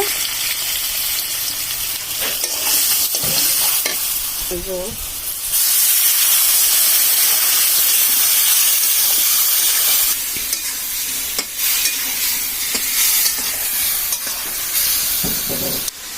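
Ground spices fry and sizzle in a home kitchen pan with steady broadband hissing, occasional stirring scrapes and faint voices in the background, and the sizzle grows louder partway through.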